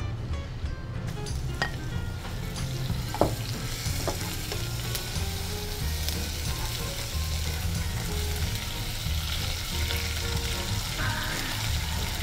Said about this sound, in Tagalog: Ito, nagme-melt na po siya. Ilalagay ko na itong ating butter.